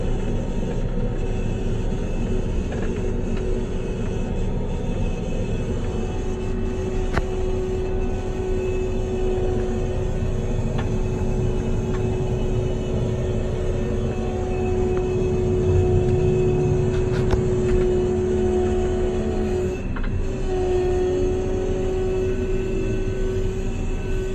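A John Deere 9500 combine drives forward in third gear, its engine giving a steady, loud, continuous drone with a constant hum and faint mechanical rattles throughout.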